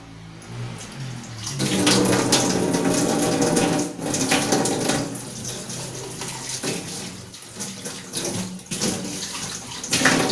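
Tap water runs steadily into a kitchen sink while dishes are washed, a continuous close splashing rush with small clatters breaking through near the end.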